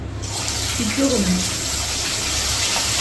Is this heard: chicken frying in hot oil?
yes